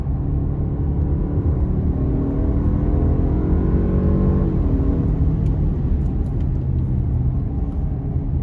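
2021 Jaguar XF P300 R-Dynamic AWD with an 8-speed automatic pulling hard out of a corner, engine note climbing steadily then dropping after a shift, heard from inside over steady road rumble.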